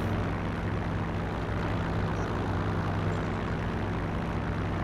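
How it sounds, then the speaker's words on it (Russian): An airplane drones overhead in the World War II game Forgotten Hope 2, a loud continuous engine hum with a steady low tone that holds evenly for several seconds and has no voices over it. "В небе самолет"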